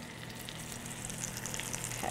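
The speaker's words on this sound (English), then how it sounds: "You know that your pan is hot enough when you get to hear that sizzle" Food placed flesh side down into a hot buttered pan sizzles in a steady, close frying hiss that holds for about two seconds, with no talking.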